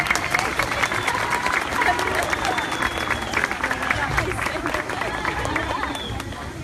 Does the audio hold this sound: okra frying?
no